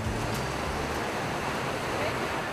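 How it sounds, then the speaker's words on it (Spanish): Cascada La Virgen waterfall beside the road between Coyhaique and Aysén in Chile, a steady broadband rush of falling water, close and continuous, with a faint voice briefly underneath. "se encuentra la Cascada La Virgen"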